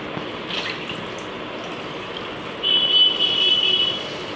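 Liquid pours steadily into a bowl, a continuous watery rush that brightens into a rising filling tone near the end as the bowl fills up.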